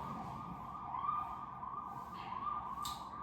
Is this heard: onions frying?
no